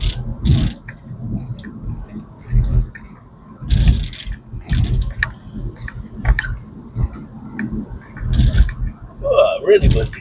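Car rattling over a bumpy road, with bursts of metallic jangling and clattering in irregular jolts, close and fairly loud, with occasional speech between the bumps.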